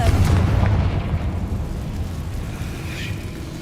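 A Confringo spell blast in Hogwarts Legacy booms loudly at the start, then rumbles and decays into a lingering low tail, with a faint bright shimmer near the end.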